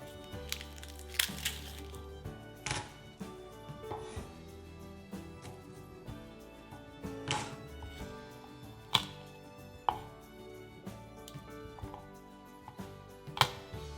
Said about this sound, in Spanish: Cortamos una guindilla y partimos unos ajos con la ayuda de un cuchillo.